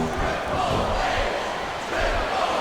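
Crowd cheering and roaring inside a WWE SmackDown vs Raw 2007 wrestling arena during a Kurt Angle versus Triple H match, a dense, steady wall of noise with swells, mixed under commentary voices.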